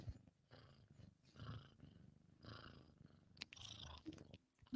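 Fat, sleepy house cat purring steadily in a low rumbling rhythm, close and fairly quiet, with soft breaths and a few small bumps along the way.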